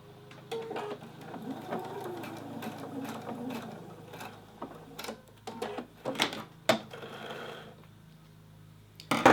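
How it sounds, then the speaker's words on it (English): A sewing machine stitches the two ends of foldover elastic together for a collar, its rapid mechanical chatter running steadily in short bursts with a few sharper clicks and knocks toward the end. "I'm going to put the two ends together and I'm going to stitch them together."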